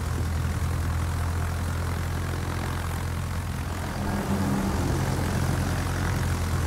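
Propeller-driven rocket planes in a naval battle video game drone steadily in a broad, continuous engine roar with a low rumble underneath, holding a constant level throughout with no talking.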